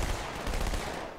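Rapid gunfire from the Halo 2: Anniversary video game on PC, a dense continuous burst of shots with a sustained roar throughout.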